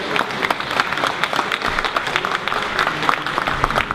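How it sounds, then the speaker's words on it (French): A conference audience at SATIS 2014, after a session on 4K production, gives a crackling round of applause with individual claps popping out of the steady crowd noise. "je pense qu'on peut les applaudir"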